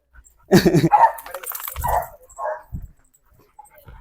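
A pit bull terrier gives a burst of loud, close barks, followed by shorter yips and whimpering sounds with quiet gaps between them.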